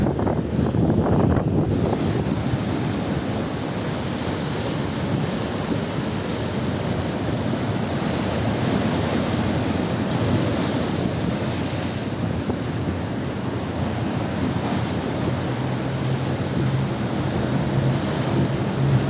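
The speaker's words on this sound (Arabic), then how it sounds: "موج البحر اسكندرية، الموج شديد شديد شديد، طيارات جامدة ورياح جامدة" Strong sea waves crash and roar continuously on the Alexandria shore with heavy wind buffeting, a loud dense wash of surf without any speech.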